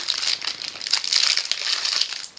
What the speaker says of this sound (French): Alors désolé pour les bruits de plastique.